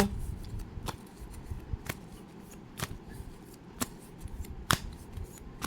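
Tarot cards handled during a reading as another card is drawn, with sharp, crisp card snaps and slides arriving roughly once a second over a quiet room background, close and without talk.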